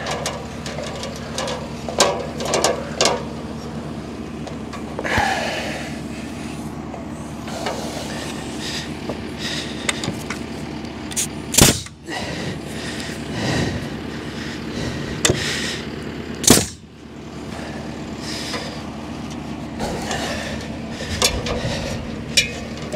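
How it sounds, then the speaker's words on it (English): Two sharp, loud nailing impacts fix a roof truss in place on a post frame home build, standing out above a steady, rumbling mechanical hum with scattered clatter, no talk. "Just gonna put a nail in this to hold it."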